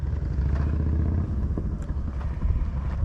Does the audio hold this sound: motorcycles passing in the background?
yes